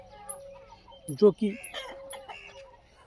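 Pure desi free-range chickens on a poultry farm cluck in short, close bursts while someone speaks over them.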